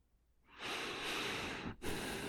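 Slow, close breathing from a calm hypnosis session for sleep: one long airy breath swells and holds for over a second, breaks off briefly, then a second breath begins, with no talking.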